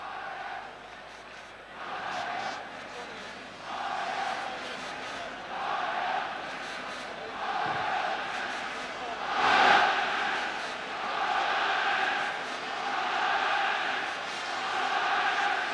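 A huge stadium crowd of 65,000 murmurs and roars at Amsterdam's Olympic Stadium, built for the 1928 Olympics, while waiting for Ajax and Nottingham Forest to come out. The noise swells and rolls in waves under a commentator's voice.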